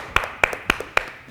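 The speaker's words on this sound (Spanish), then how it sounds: "con el aplauso de todos" A studio interview audience greets a guest with four evenly spaced, close claps, each with a faint softer echo, and no talking over them.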